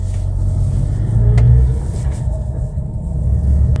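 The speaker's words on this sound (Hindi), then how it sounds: "अब चलिए हम यहाँ से एक बार गाड़ी घुमाते हैं।" A car is turned around on a road, its engine rumbling loud and close with a brief rev partway through and steady low drone otherwise.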